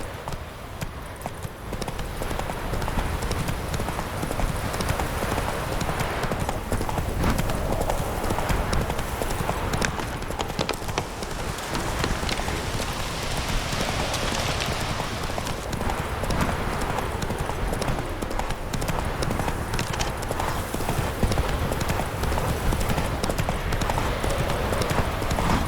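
Hooves of Roach, the horse in The Witcher 3 video game, pound in a fast, continuous galloping clip-clop that is loud and close throughout, with faint game voices in the background.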